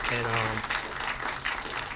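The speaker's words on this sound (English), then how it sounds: "another round of applause for Elizabeth" Applause from an audience for Elizabeth at a closing and thank-you event, starting under a speaking voice in the first half-second, then continuing as moderate clapping on its own.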